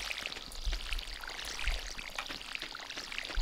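A watering can pours onto crops in Stardew Valley, a continuous splashing trickle with soft droplet ticks, moderately loud and close with no talk.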